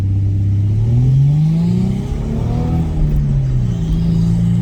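A 2013 Ford Mustang V6 revs hard under acceleration, its loud engine note climbing, dipping briefly, then rising again through the gears, with no voices.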